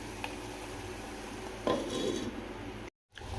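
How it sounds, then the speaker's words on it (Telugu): A lid set onto a cooking pot of a simmering dish with water and coriander powder: one soft clunk midway over a faint, steady kitchen background, close and with no talking. "మూత పెట్టేద్దాం."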